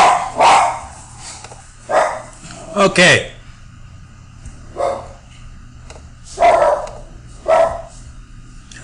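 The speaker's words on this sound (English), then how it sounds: "The dogs are really at it here" Several dogs bark in short repeated bursts near a rural road past ranches, dairy farms and hog farms, with someone talking briefly between the barks.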